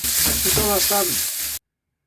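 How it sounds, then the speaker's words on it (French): Bacon lardons sizzle and crackle loudly as they fry and burn in a pan, a steady hiss under a woman's speech before the sound cuts off abruptly. "les lardons cuits crament et ma casserole sera irrécupérable"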